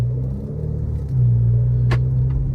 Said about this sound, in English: she has an exhaust on her, so she might be a little bit louder than what she should be